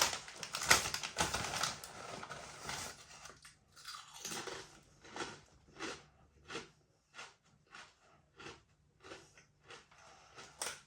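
Crisp crunching bites of ghost pepper potato chips repeat in an irregular rhythm, close and moderately loud, with a denser burst of crackling at the start and no talking.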